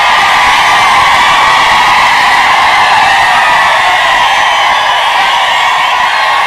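A big crowd at a political campaign rally in Dharashiv roars and whoops in a steady, dense wall of cheering that carries on without a break.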